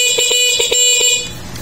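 The horn of a Mio Soul motorcycle beeps in five quick, loud, close blasts, then goes quiet near the end, with no talking over it.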